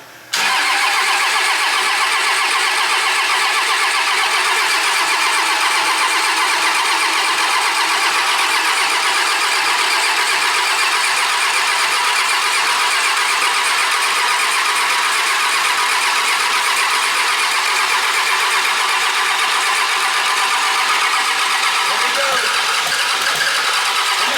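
A Cummins diesel engine in a show truck cranks and fires up for the first time, then settles into a loud, steady running drone close by that holds for over twenty seconds.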